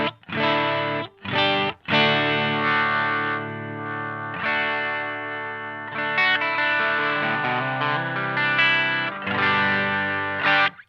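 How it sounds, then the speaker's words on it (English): Electric guitar played through a Line 6 HX Effects unit using its Minotaur overdrive, modeled on the Klon Centaur: sustained, mildly gritty chords and short stabs, with sharp attacks and brief silent gaps, no talking. "let's throw on one of my favorite overdrives, will be the Minotaur, which is the Klon Centaur."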